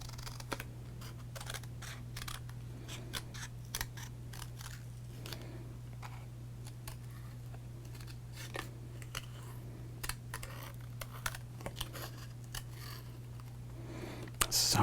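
Scissors snip through 2023 baseball cards in a quiet, close-up cut, with crisp repeated clicks and slicing sounds over a low steady hum.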